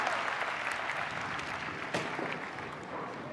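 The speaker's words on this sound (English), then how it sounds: "You can clap." An audience at a graduation ceremony applauds steadily, with a dense, continuous clatter of many hands that fades slightly toward the end.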